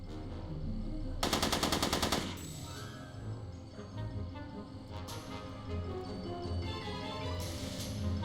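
Gunfire in the Back to the Future Part II video game: a loud rapid burst of automatic shots, then scattered quieter shots and game noise, with a second shorter burst near the end.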